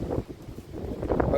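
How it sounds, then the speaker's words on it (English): Gusty wind on a blustery day outdoors in Kentucky rumbles and buffets the microphone in a continuous low roar that swells louder toward the end. "Y'all probably can hear that wind."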